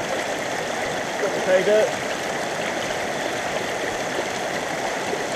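Water rushes steadily through a gold sluice set up outdoors, a constant close stream sound with someone talking briefly over it.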